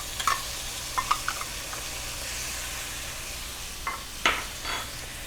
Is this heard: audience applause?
no